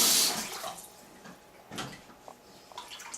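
Water from a tap gushes in a short burst at the start, then trickles and splashes more softly, close by in a sink with faint movement around it.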